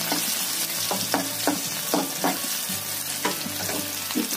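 Chopped garlic, whole cumin seeds and dried chillies frying in hot oil give a steady, close sizzle, with a few sharp clicks of stirring scattered through it.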